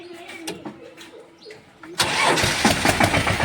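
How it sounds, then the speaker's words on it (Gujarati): A few clicks and faint birds, then a tractor engine cranks on its self-starter and catches, running loudly and roughly right up close. "અત્યારે અમે ટ્રેક્ટરમાં બેસી ગયા છીએ સેલ્ફ મારી છીએ"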